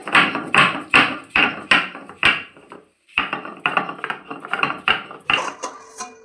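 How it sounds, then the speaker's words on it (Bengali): Green chili and ginger being ground into paste, likely on a stone, with a steady run of sharp, rhythmic scraping and knocking strokes up close, a short pause midway, and no talk. "এবার লঙ্কা আর আদাটাকে বেটে নেব।"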